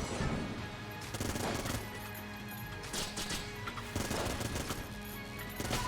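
Gunfire from a gun in the game Enter the Gungeon: repeated bursts of rapid shots in an irregular rhythm, loud and mixed with the game's music and effects.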